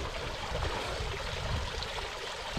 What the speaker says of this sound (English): Look at that water run out.